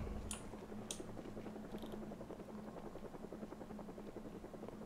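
A helicopter from the Project Zomboid helicopter event drones steadily overhead with a low rotor hum and a rapid chopping pulse, while sharp clicks and taps come in and out on top.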